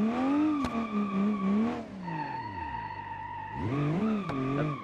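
A car drifts through a parking garage in the BeamNG driving game, its tires screeching in long wavering skids while the engine revs rise and fall, loud and close, with no talking.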